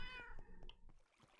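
A house cat lets out a short, drawn-out meow at the start, followed by faint soft clicks and rustles in a quiet room.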